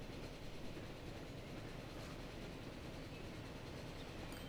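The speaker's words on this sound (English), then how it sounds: "And there's a return train again." A train running along a line in the game Transport Fever, a steady dense rumble and rail noise throughout, fairly close and without speech.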